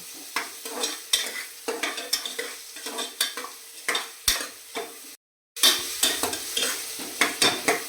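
Two large finely chopped onions sautéed in a pan toward brown, rhythmic scraping stirs of a spatula every half second over a soft sizzle, close up, briefly cut to silence midway, no voices.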